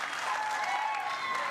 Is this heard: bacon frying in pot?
no